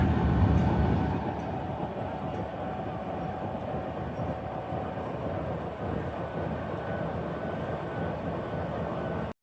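The Jaffar Express locomotive, number 4567, shunting away toward the shed. A steady, loud low rumble of engine and rail noise runs throughout and swells briefly at the start.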